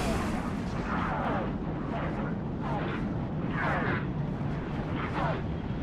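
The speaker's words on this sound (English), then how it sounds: "Who the hell is shooting at me?" Continuous heavy gunfire and booming blasts in Halo Reach, a steady dense barrage with repeated rumbling impacts roughly once a second, with a voice talking over it.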